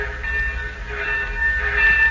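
A train pulls in as a 1940s radio western sound effect, a steady rolling rumble with a faint whistle tone running through it, loud and continuous with no talk.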